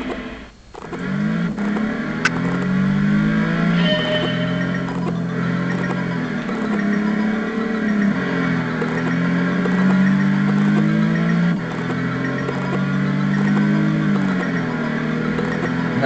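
A Nissan GT-R launches from a standing start with traction control off, its engine revving up through repeated climbing pulls and gear changes, loud and close, with no talk.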